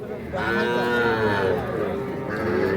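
A cow at a busy cattle market selling small bulls and heifer calves gives one long, loud, deep moo that rises and falls close by, over a murmur of crowd noise.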